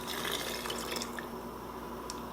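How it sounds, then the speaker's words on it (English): Broth pouring into glass canning jars of 16-bean soup with beans and meat, a soft trickling liquid fill with light drips, close and steady. "I'm going to put in one more of just the broth."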